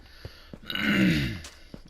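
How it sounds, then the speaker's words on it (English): A man clears his throat once in a short, rough guttural rasp that swells and fades, with a few faint clicks around it and no speech. "for clearing my throat, but the pollen is unreal"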